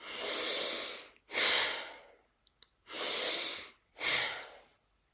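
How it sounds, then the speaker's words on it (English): Heavy breathing in and out during a guided class, four long, loud breaths alternating with short pauses, each a broad airy rush, with a few faint clicks between them and no talk. "And now you start doing heavy breaths in and out."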